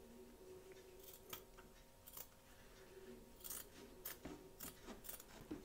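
Scissors snip away excess fabric around a crazy patch quilt block, a series of short, crisp cuts spaced irregularly, close and fairly quiet.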